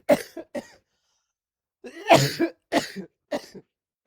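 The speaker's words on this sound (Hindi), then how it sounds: "मुझे लग रहा है खांसी बहुत तेज हो रही है" A man teaching a percentage class coughs several times, short harsh bursts in two clusters separated by a silent pause, close to the microphone with no talk.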